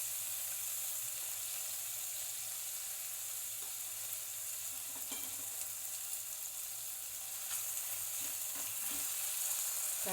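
Cumin and green chili paste fry in melted butter in a kadai, giving a soft, steady, close sizzle that hisses evenly throughout without any talk.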